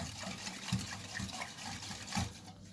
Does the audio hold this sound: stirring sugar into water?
yes